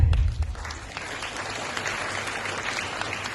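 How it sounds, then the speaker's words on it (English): A school audience at a senior wing cultural programme applauds, a dense steady clapping that opens with a low thump and stays even to the end. "Please, big clap."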